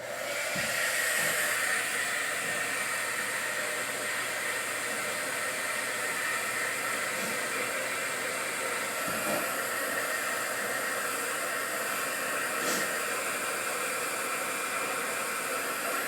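A dryer blows air over a craft piece for a bike basket door decoration, a steady, even, loud whooshing hiss that runs without a break, with a few faint knocks and no talking.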